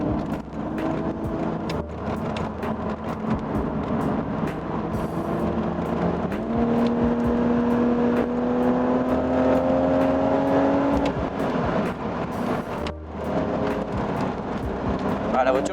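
A BMW Z4 in sport mode accelerates through curves, its engine note climbing steadily, with a brief dip at a gear change and a continuous loud interior drone beneath someone speaking French.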